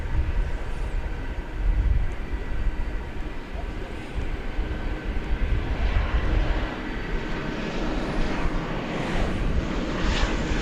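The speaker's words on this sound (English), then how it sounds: "Singapore Airlines cargo going to Brussels" A Singapore Airlines cargo Boeing 747 bound for Brussels roars at DFW Airport, a sustained rumbling drone whose brighter hissing edge builds toward the end.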